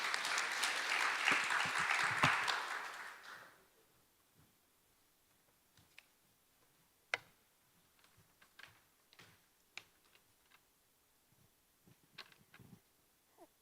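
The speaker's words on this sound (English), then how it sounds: "Please welcome her with a big round of applause." Audience applause welcoming a speaker to the stage at an Olympic legacy forum in Seoul, a loud, dense burst of clapping for about three seconds that quickly dies away, leaving a quiet hall with scattered faint clicks and small noises.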